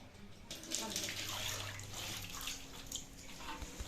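Dirty rinse water from washing wool coats gushes and splashes out of a container nearby in a steady pour lasting a few seconds, with a voice faintly audible.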